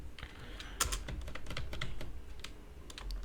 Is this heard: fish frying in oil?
no